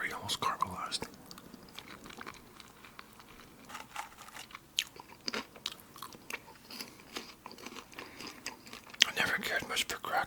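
Salty, sugary caramelized popcorn is eaten up close, with crisp bites and crunchy chewing in irregular bursts alongside soft whispering.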